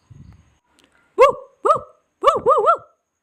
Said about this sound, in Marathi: 4 कुत्रे.